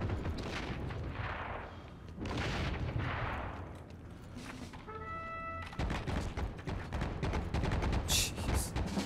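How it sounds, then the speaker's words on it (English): A grenade bursts in the Heroes and Generals shooter game amid ongoing gunfire. The booming explosion is followed by rapid rolling shots, all fairly distant and muffled. "And oh, that's a grenade."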